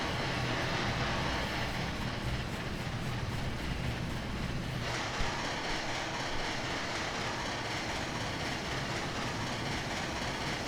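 A locomotive at high speed in the railway simulator Trainz 2022 gives a continuous dense roar of engine and rolling noise, steady and fairly loud, with a slight shift in tone midway.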